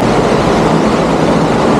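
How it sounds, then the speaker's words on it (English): Loud, steady rushing water roars inside a sewer tunnel, a continuous dense wash filling the space with no let-up. "It sounds like there's a lot of water coming."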